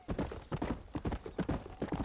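Horse hooves clip-clop in the Red Dead Redemption video game, a quick regular trot of about a dozen close, distinct hoofbeats at moderate volume, with no talk over them.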